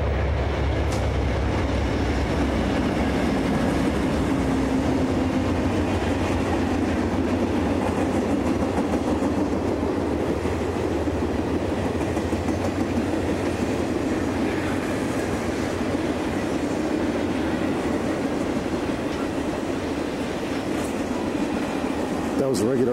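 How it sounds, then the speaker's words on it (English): An Amtrak passenger train rumbles past continuously at close range, with a steady roar and rhythmic clatter of wheels on the rails. "That was a regular Amtrak passenger train, not a commuter train as before."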